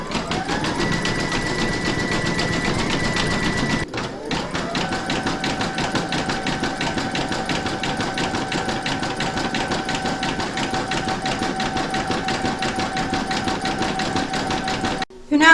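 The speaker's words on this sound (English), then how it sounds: "Pop your hoop back into your machine and stitch round number 4, and that's going to zigzag the raw edge of your fabric." An embroidery machine stitches a zigzag round on fabric held in a hoop, producing a fast, steady mechanical hammering with a motor whine. A short pause breaks it before the stitching resumes.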